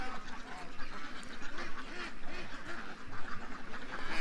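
A flock of ducks quacks continuously near a pond during feeding, with killdeer stirring them up; dense, overlapping nasal calls close by, rising and falling in a steady chattering clamor.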